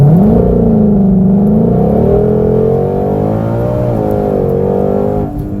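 A 2020 Shelby GT500 or C8 Corvette launches hard in a 0-60 run, its engine loud and close as the revs climb steadily through the gears with a smooth rising whine and a deep exhaust note.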